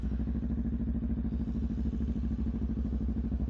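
A 2022 Honda Rebel 500 ABS idles with a Vance & Hines exhaust, giving a steady, loud, close-up rumbling pulse that stays even and unbroken throughout.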